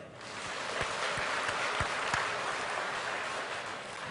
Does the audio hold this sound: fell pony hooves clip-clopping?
no